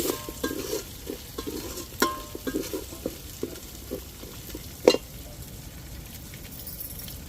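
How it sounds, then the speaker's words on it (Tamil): Small onions, shallots, sauté in a pan for a Tirunelveli-style sodhi kuzhambu, a soft continuous sizzle broken by repeated stirring scrapes and an occasional light clink of the spoon. "சின்ன வெங்காயம் நல்லா வதங்கட்டும்"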